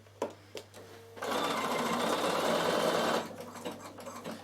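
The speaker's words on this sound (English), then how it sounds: "you can see you can sew anywhere with this one. I'll stop at that one or I'll be there forever because that one's a slow stitch." A Bernina sewing machine runs a slow decorative stitch for a couple of seconds, a close, steady mechanical whir framed by a few soft clicks and handling noises before and after.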